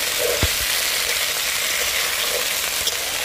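Flat beans and potatoes fry in hot oil with nigella seeds, a dense, even sizzle held close throughout, with a couple of faint knocks and no talk.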